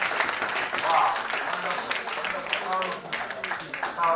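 An audience at a social cohesion dialogue event applauds in a steady wash of clapping while people talk over it.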